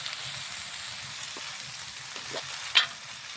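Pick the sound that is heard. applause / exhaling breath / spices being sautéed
spices being sautéed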